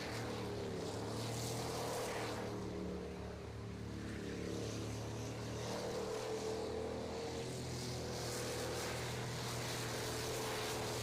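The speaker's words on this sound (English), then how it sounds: "it's a 16-foot sprinter" A 16-foot sprinter race boat engine at a Port Angeles race drones steadily at a distance, a constant low roar holding for the whole stretch with no voices.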